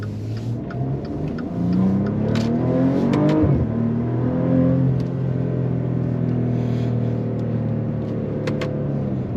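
A Maserati Ghibli SQ4 pulls away, its engine rumbling and revving up for a few seconds before settling into a steady, moderately loud cruising drone heard from inside the car.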